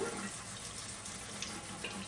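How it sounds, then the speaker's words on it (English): Cold tap water runs steadily from a faucet while a steamed chicken egg is peeled under the stream, giving a constant, fairly quiet splashing hiss with no talk. "the eggshell here while it's still running a little bit under the cold water"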